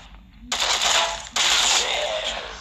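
Two loud bursts of rapid gunfire from the zombie shooter Zombie Frontier 3, each lasting close to a second, with a brief gap between them.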